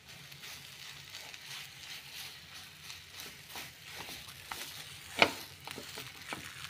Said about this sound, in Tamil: இப்படி கட்டியாகிற வரைக்கும் நம்ம வந்து அதை கிண்டி விட்டுக்கலாம்